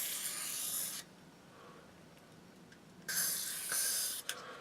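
Silicone spray hisses from an aerosol can onto the runners inside an airsoft gun, two close bursts of bright hiss separated by a quieter pause, the second ending with a couple of short puffs.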